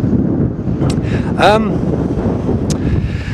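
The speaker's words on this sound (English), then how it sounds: "it's too windy, so I'll hide behind this truck again" Strong wind buffeting a microphone outdoors beside a truck, a loud continuous low rumble throughout, with a brief voice and faint whistling sounds partway through.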